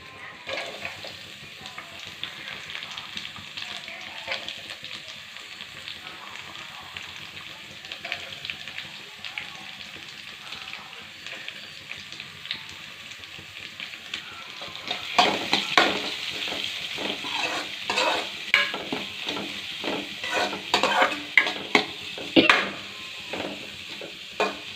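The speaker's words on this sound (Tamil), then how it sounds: "ஃப்ரெண்ட்ஸ், வெங்காயம் வதங்கிடுச்சு." Chopped onions sautéing in oil with curry leaves and green chillies for a village-style masala omelette, a steady hiss of frying that grows louder and busier midway as a spatula stirs and scrapes the pan in quick repeated strokes.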